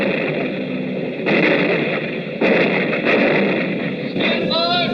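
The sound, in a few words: anti-aircraft guns firing, radio drama sound effect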